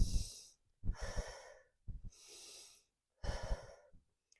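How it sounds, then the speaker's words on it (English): Four strong, close breaths during a tabletop plank exercise, each a rushing exhale or inhale separated by short silences in an even rhythm. "exhale again"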